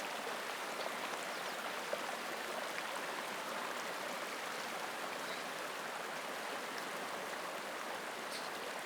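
Fast-flowing water of the Wind River in Wyoming rushes in a steady, even broadband hiss, continuous and moderately quiet throughout with no voices.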